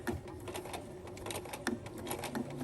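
A sewing machine topstitches a zipper pouch, moving forward and backstitching near the zipper teeth, giving a quiet, steady mechanical rattle with faint irregular clicks throughout.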